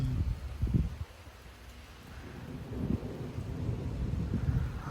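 Severe thunderstorm in Frisco, Texas with 40 mph wind gusts: low rumbling thunder and gusty wind buffeting the microphone, a loud burst at the start easing into a steady roar of wind and rumble.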